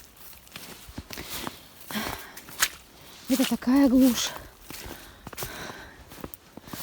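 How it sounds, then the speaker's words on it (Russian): Footsteps crunch outdoors in an abandoned village, a series of uneven steps close by, while someone talks over them. "Но какие-то шаги, слушайте,"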